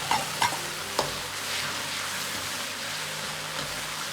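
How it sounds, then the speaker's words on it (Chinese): Prepared sauce hits a pan with scallion whites in scallion oil for braised tofu, sizzling loudly and evenly after a few sharp utensil taps at the start. "接着下入兑好的酱汁"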